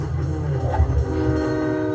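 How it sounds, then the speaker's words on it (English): A train horn in the arcade racing game Cruis'n Blast blares as a steady, loud sustained tone with low rumble beneath, holding for the full two seconds without any talk. "So look at that train."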